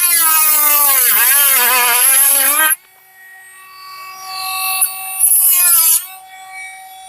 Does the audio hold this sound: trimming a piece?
yes